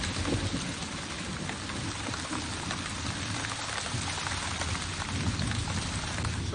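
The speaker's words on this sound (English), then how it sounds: "Pouring rain and blowing a hurricane ever since." Pouring rain in a hurricane-force storm hisses in a dense, unbroken roar of drops on surfaces, steady and fairly loud from start to finish with a low rumble beneath, and no voices.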